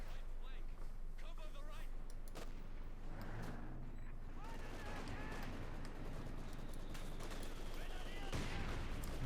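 Mortar fire in Company of Heroes 2 battle, with several heavy booming shots and rumbling impacts amid ongoing combat noise, while a commentator talks over it.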